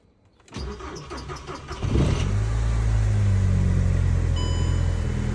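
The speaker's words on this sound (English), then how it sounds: "here is the video of this car finally starting" A Volkswagen Golf GTI that sat for four years cranks briefly, fires up and catches with a rising rev, then settles into a loud, steady idle close by.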